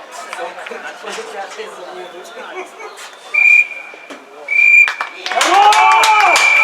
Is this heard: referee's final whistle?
yes